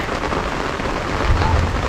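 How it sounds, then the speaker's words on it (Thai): Steady rain falls nearby, a dense continuous hiss of drops pattering on surfaces, with a low rumble underneath. "ฝนมันตก"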